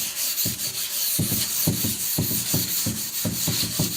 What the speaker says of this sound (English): So here's my sanding.